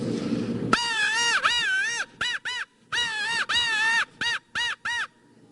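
A predator hunter blows a crow call imitating crows, giving loud, close, harsh caws in bursts: a long series, then short pairs, then more long runs separated by brief silences.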